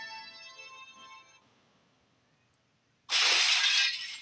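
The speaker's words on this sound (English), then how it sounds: "The stained glass window shatters with a loud crash." A stained glass window shatters in the video game Theresia: Dear Emile, a sudden loud crash of breaking glass after a fading musical tone and a short hush, bright and close.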